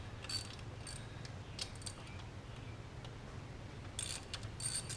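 Short bursts of ratchet clicking come from loosening the AC compressor bolts on a Chevy Suburban, close and moderately loud over a steady low mechanical hum, with clusters near the start, the middle and the end.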